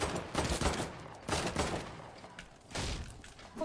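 Gunfire in Fortnite from a stream sniper, a rapid burst of close, loud shots in clustered volleys with short gaps between them.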